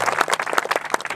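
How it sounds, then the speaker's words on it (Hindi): Audience applause at a gathering honouring a gold-medal-winning athlete: steady, dense clapping fills the whole moment, with a few voice-like tones mixed into the crowd noise. "जोरदार तालियां।"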